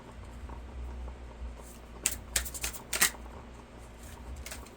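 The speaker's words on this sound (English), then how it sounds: "flipped out when I was shuffling these cards" Tarot cards being shuffled by hand, a faint papery riffle with a few quick bursts of flicking near the middle over a low background hum, no talk.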